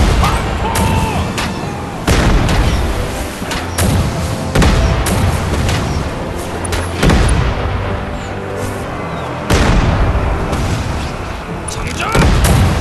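Joseon warship cannons from an Imjin War naval battle fire in repeated heavy booms, volley after volley, some overlapping, with shouted commands between the blasts.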